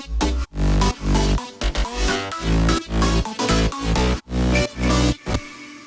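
A future bounce synth plays in short, punchy chopped stabs with deep bass, drenched in a very large Pro-R reverb, loud and rhythmic for about six seconds.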